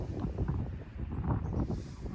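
Strong wind buffeting the microphone at Lake Alberta during an evening fishing outing, a steady low rumbling roar with gusty surges throughout.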